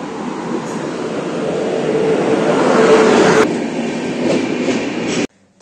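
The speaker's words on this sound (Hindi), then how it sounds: "फाइनली आ गई ट्रेन यहाँ पर" A train rolls loudly into a railway station platform in India, a broad rumbling roar with rail clatter building up close before cutting off abruptly.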